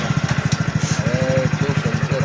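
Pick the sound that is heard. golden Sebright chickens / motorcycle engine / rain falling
motorcycle engine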